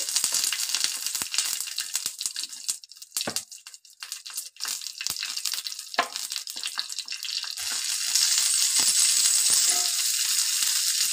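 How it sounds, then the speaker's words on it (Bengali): Three green chillies and six dried red chillies fry in oil in a pan for aloo bhorta, giving a close, crackling sizzle broken by sharp pops and stirring scrapes, with the hiss rising steadily near the end. "3টে কাঁচা লঙ্কা দিয়েছি আর 6টা শুকনো লঙ্কা দিয়েছি। সুন্দর করে ভেজে নিব।"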